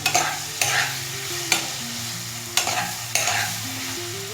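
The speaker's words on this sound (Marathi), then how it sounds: "हे मिश्रण चांगलं तेलात परतवून घ्यायचं" A potato and crushed green chili mixture fries in oil in a pan, sizzling steadily while a spatula scrapes and stirs it in sharp, irregular strokes, close and fairly loud, with no talking.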